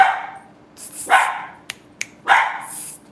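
Dogs barking indoors: three loud, close barks spaced about a second apart, with two sharp clicks between them and quiet room tone in the gaps.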